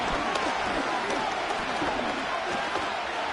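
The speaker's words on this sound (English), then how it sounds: "The Arrowhead crowd in full roar." A large stadium crowd at Arrowhead in Madden 25 roars in a continuous dense wash of cheering that stays loud and unbroken throughout.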